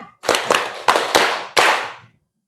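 A group claps in unison, five sharp, loud claps in a quick rhythmic pattern, then silence.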